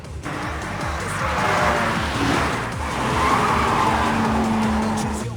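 In the Initial D arcade racing game, a race car engine drones under long screeching tire skids as the car slides through corners, loud and continuous throughout with no voices.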